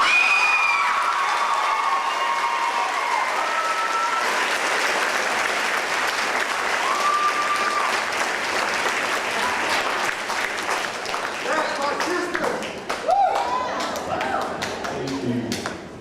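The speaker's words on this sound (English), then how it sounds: "Everyone, give yourselves a round of applause." A crowd at a high school graduation ceremony applauds and cheers, with sustained dense clapping, scattered whoops and shouts, and a few loud thumps and taps as the cheering carries on.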